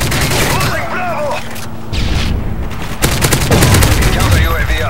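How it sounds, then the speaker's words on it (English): A frag grenade is thrown and bursts in a military shooter video game, its boom buried in a dense, loud mix of rapid gunfire and shouted voices. "Frag out!"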